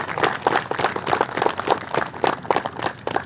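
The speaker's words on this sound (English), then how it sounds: "Give yourselves a round of applause." Audience clapping at an outdoor Veterans Day ceremony, a steady patter of many hands that carries on at moderate loudness for the whole stretch without letting up.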